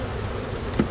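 Honey bees hum softly in an opened hive during a spring inspection, a low continuous buzz close by with a brief soft knock near the end.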